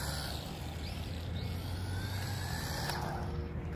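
A Whirlt 1:18-scale off-road 4x4 RC car running its small electric motor at top speed gives a steady, high-pitched whine with faint tonal sweeps, constant in level and close by, with no speech.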